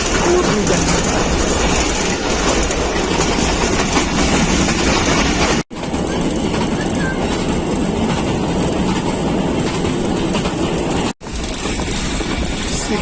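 The Thall Express, a Pakistan Railways passenger train, rolls along the rails with a loud, continuous rumble and rhythmic clatter heard from on board, broken by two brief dropouts.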